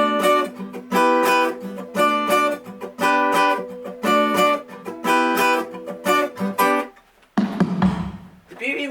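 An acoustic guitar strums a repeating 1-5-6-5 chord progression in steady rhythmic bursts, loud and close, ending with a short noisy scrape and a low thump.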